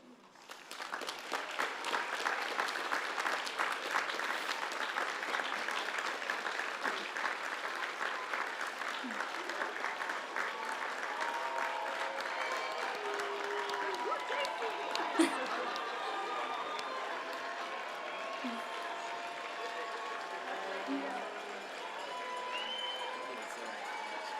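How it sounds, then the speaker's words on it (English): A high school graduation crowd gives a standing ovation, broad sustained clapping filling a large stadium and holding steady, with faint cheers and murmurs mixed beneath. "let's give a round of applause, or better yet, a standing ovation to everyone who has helped us be here today"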